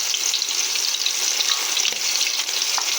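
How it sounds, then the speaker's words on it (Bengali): Fish heads frying in plenty of hot oil in a wok, a constant bright crackling sizzle, close and steady, with faint utensil touches. "আমি এখানে কড়াইয়ের মধ্যে তেল দিয়ে দিচ্ছি, গরম হয়ে গিয়েছে। আমি একে একে মাথাটা দিয়ে দেবো"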